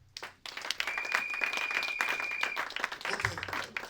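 Congregation clapping and applauding in a church service, a steady dense patter of many hands that carries on throughout, fairly loud and close, with a sustained voice or tone rising over it.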